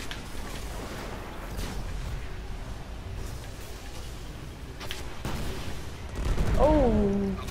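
Gunfire in the video game Destiny rattles in rapid bursts over a low rumble, with a tonal chime near the end and heavy ammo in play.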